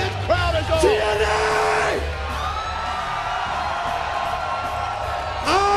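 A wrestling arena crowd at a TNA pay-per-view event whoops, yells and cheers loudly, sustained roaring with rising shouts near the start and end.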